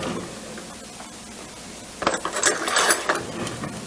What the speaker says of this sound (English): You take and break some in half and put in here.